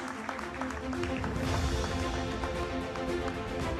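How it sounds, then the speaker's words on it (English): Applause from an audience at a college orientation day ceremony honouring a top-ranked student, a dense, steady wash of clapping that holds for the whole stretch with a faint tonal hum running underneath. "Please give him a big round of applause."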